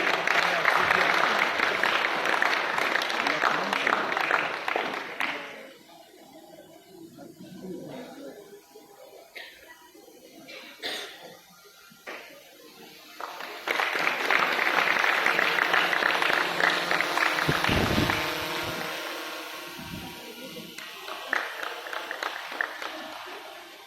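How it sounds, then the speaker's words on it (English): An audience at a science fair inaugural ceremony in Kolkata bursts into loud applause that fades after a few seconds, then a quieter stretch follows before a second long wave of clapping from the crowd. "A big round of applause, please."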